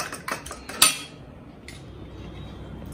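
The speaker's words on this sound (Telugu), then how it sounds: "ఇవన్నీ కూడా మనం స్పూన్ తీసుకొని ఇలా కలిపినా సరిపోతుంది" A spoon clinks against a bowl while mixing egg batter: a few quick metallic taps and scrapes at the start, then softer stirring fading into quiet background.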